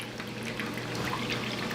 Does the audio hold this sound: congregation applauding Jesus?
no